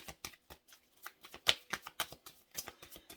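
Tarot cards being shuffled and drawn, a soft, quiet run of papery riffles and flicks in an uneven rhythm.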